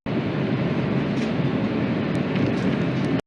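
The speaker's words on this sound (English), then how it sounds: "This is Madrid's train station Atocha, serving trains to the south and the east." Train noise fills Madrid's Atocha station, a loud, continuous rumble and hiss that runs steadily for a few seconds, then cuts off abruptly.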